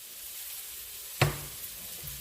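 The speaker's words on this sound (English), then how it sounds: "Stirring my beef." Beef being stirred in a hot pan: one sharp scrape of the utensil, then a low sizzle fading under faint follow-up scrapes, close by.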